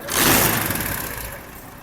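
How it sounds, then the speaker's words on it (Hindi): A small 70cc motorcycle engine fires up with a quick burst of noise, then settles into a quieter, even idle. "अब हम बाइक को स्टार्ट करके चेक करते हैं"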